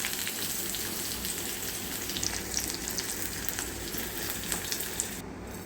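Green chillies sautéing in hot oil in a pan, a steady dense sizzle and crackle with occasional pops, close and even throughout, no voices.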